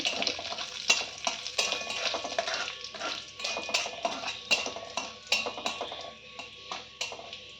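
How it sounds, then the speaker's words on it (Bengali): Whole cumin seeds and dried red chillies fry in hot mustard oil while a spoon scrapes and clinks against the pan, giving a soft crackle broken by frequent sharp metallic taps throughout. "গোটা জিরে আর শুকনো লঙ্কা দেওয়ার পর আমরা একটু ভেজে নেব।"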